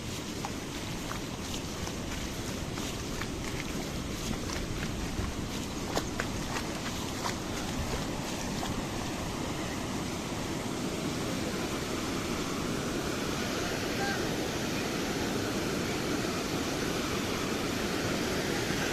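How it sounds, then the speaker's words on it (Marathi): Floodwater after days of heavy rain pours across a road near Pimpalwandi in Junnar taluka, Pune, a constant loud broadband rush that holds unchanged throughout, with no talking. "आपण पाहतोय अगदी रस्त्यावरून पाणी चालू आहे या ठिकाणी"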